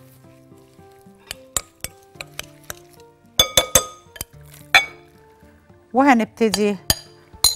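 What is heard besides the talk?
mixing chicken and spices in a glass bowl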